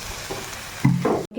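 Banana flower mixture with cornflour being stirred and fried in a pan: a low sizzle with scraping strokes swelling louder toward the end, then cutting off abruptly.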